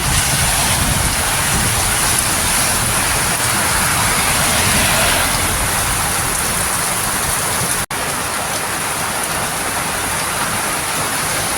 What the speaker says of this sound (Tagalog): Tuloy-tuloy pa rin ang ulan.